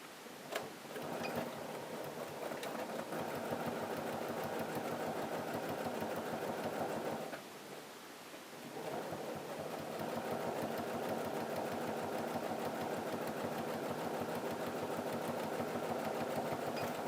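Sewing machine stitching the curved seam of a fabric protective mask, a steady close whirring rattle that runs continuously, pauses briefly partway through, then resumes at the same even pace.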